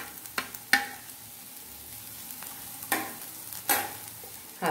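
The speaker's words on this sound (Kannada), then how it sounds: "ಒಂದು ಹಸಿ ವಾಸನೆ ಹೋಗುವವರೆಗೆ ಇದನ್ನ ಫ್ರೈ ಮಾಡ್ಕೊಳ್ಳಿ" Carrot, beans and capsicum stir-fried in a pan: a steady low sizzle with a few sharp scraping strokes of a spatula spaced through the stretch, close and moderately loud, no voices.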